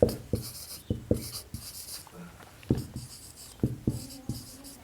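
Pen or chalk writing out decimal numbers during a Class 9 NCERT math lesson, a run of short scratchy strokes in an uneven rhythm, close and clear, with no talk.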